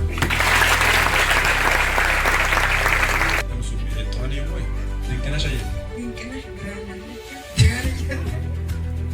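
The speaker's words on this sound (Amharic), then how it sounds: "ደህና አድርጋችሁ አጨብጭቡ" A church congregation breaks into loud, dense applause for about three seconds, then the clapping stops and speech with background murmur carries on.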